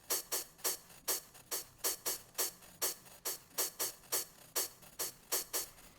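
Quiet, hissy electronic hi-hat bursts of filtered noise, pulsing in a steady even rhythm on their own.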